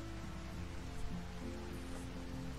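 Rain in the game Rimworld falls steadily as a dense, even patter of drops with no other sound rising above it.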